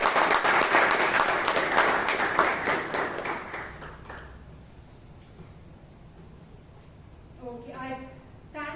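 Applause from a Toastmasters club meeting audience for a Toastmaster, lively clapping from a modest group that fades out after about four seconds, followed by a quiet pause and then a voice beginning to speak.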